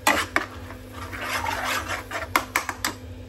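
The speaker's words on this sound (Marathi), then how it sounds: "इकडं मसाला परतून घेते मी" Masala being sautéed in a pot in a home kitchen, with steady scraping and stirring and a few sharp metal clinks of the spoon against the pot, close and alone.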